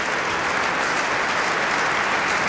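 Dense, sustained applause from a large concert-hall audience at the end of a piano recital, an even roar of many hands clapping at once, with no break or voices standing out.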